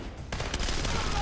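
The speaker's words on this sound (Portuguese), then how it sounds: "E agora uma metralhadora." Machine gun fire in Splinter Cell Conviction on Xbox 360, a short rattling burst starting abruptly and continuing steadily, with faint background game noise.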